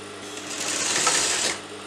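A sewing machine runs a single steady burst of stitching along a folded cuff sleeve, close and fairly loud, rising and fading over about two seconds with no talk.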